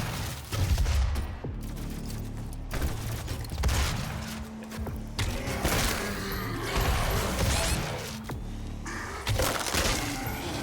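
Three-round burst gunfire in DOOM (2016), sharp clustered shots recurring several times over loud, dense game noise with heavy low rumble, close and intense throughout.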